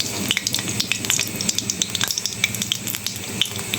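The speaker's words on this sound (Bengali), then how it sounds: "দিয়ে দেবো কালো জিরা সম্বারে, অল্প একটু কালো জিরাই দিলাম।" Black cumin seeds (kalo jeera) sizzle in hot oil in a wok, a steady close frying crackle with scattered sharp pops, no talk.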